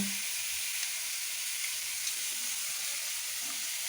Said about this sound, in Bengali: এখানে দেখো পাকা পটল ভাজা করছি